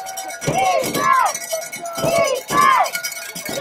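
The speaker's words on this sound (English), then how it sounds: "You love those cowbells, don't you?" Cowbells clang in a rhythmic pattern from the stands of a high school football game, Bear River Bruins vs Escalon Cougars, repeating in bursts amid crowd noise.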